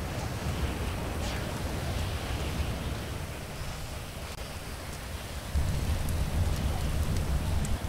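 Steady rain pours down in the FiveM game world, a dense wash of noise with a low rumble of thunder rolling underneath that swells louder near the end.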